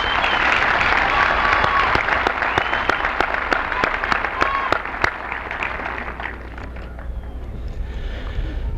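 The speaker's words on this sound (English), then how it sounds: "Let's give them a round of applause." Audience applause at a 1991 high school commencement, a dense, loud burst of clapping from a large crowd that thins out and fades toward the end, with a few distinct claps near the close.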